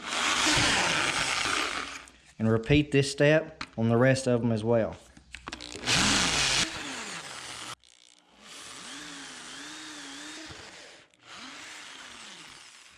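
A power drill whines in short high-pitched bursts as it drills out steel rivets on a 1988-98 Chevy Silverado 1500 front upper ball joint, with someone speaking between the runs.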